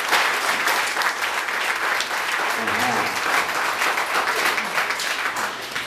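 Steady applause from a church congregation fills the space, dense and continuous throughout with no pauses, loud and close.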